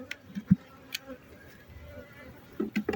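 Honeybees hum faintly around an open beehive during a frame inspection, with a soft, steady drone broken by a few short, louder buzzes near the end.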